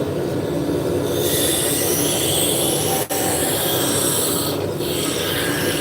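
A wood lathe turns a spindle blank with a roughing gouge, the tailstock backed off and a slight vibration present, making a continuous, loud rasping roar with one brief dip midway and no voices.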